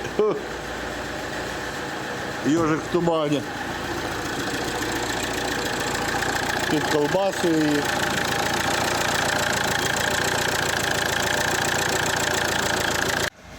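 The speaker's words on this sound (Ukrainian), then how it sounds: "Дивіться, показую, машинка у нас запускається." Opel Vectra C diesel with the Z19DTH engine, freshly reassembled, faulty with poor throttle response and smoke, runs in a steady close drone while people talk over it for most of the stretch.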